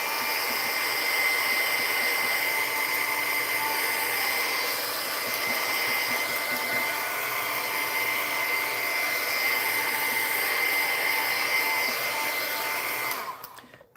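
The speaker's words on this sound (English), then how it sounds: "I have a little heat gun here, and this heat gun will kind of dry out the rest of the ink" A handheld heat gun drying ink blows with a loud, steady whoosh and a faint high whine that runs unbroken, then cuts off abruptly near the end.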